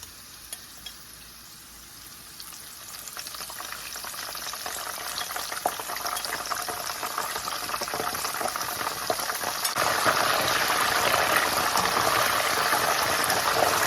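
Plantain chips fry in hot oil with a steady bubbling sizzle, swelling into a louder, harsher crackle partway through as a salt solution is added.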